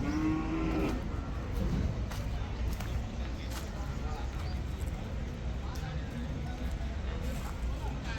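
Buffalo calves at the Erragadda buffalo market low and moo amid a busy, noisy crowd, the calls partly under steady nearby talking.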